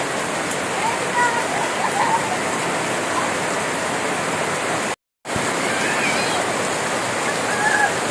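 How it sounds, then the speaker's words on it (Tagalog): Heavy rain pours in a dense, steady hiss, loud and continuous, heard from under a tent, broken by a sudden brief silence before resuming. "Malakas ang ulan guys."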